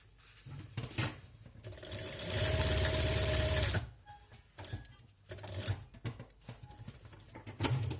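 A sewing machine stitches the hem of a jacket or coat to secure the insulation layer, running in short bursts with one longer, louder steady whir in the middle, amid close handling noises and no speech.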